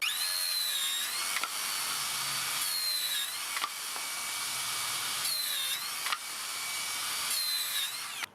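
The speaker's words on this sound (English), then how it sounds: "First up, the HS005G 125mm circular saw" A Makita HS005G 125mm 40V cordless circular saw runs loud and close with a high steady whine, spinning up and winding down several times in short bursts.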